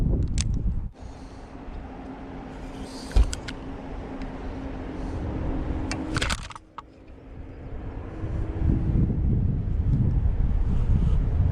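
Steady wind rushes outdoors while someone fishes a jig in dirty water. The constant roar and buffeting is loud and close on the microphone, with a few brief knocks and clicks and no talking.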